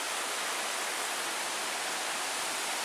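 A river rushes past a trail crossing in the Porcupine Mountains of Michigan, a steady, dense, broadband wash of flowing water, close and constant, with no voices.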